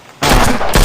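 A burst of gunfire in a shooting video game: rapid, loud shots starting abruptly after a brief quiet lull, with a second burst following closely.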